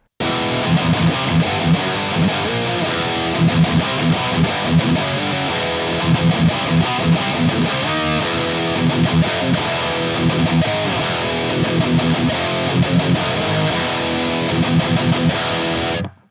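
Electric guitar driven through a Tube Screamer boost pedal, played as loud, continuous distorted chords and riffs with a steady rhythmic pulse, alone with no talking.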